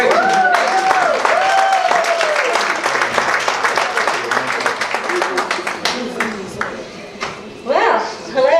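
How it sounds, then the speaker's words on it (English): An audience at a women's conference and awards event applauds steadily in a dense, rapid patter of claps that fades toward the end, with a voice speaking over it. "So if we could give a round of applause for Karen Johnson as she approaches."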